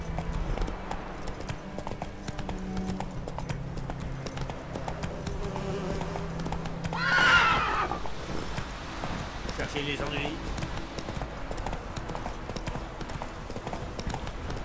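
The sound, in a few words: horse hooves clip-clopping in video game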